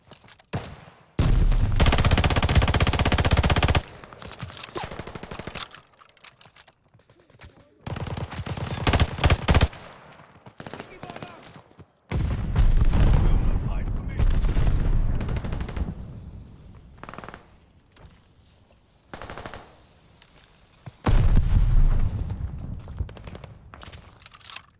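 Gunfire in the Call of Duty: Vanguard video game, loud automatic bursts lasting a few seconds each, separated by quieter gaps and scattered single shots.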